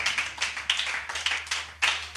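A church congregation applauds together, a dense wash of hand claps rising and falling in waves for about two seconds with no voices over it.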